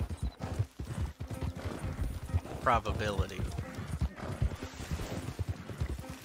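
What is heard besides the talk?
horse hoofbeats in Red Dead Redemption 2 Online video game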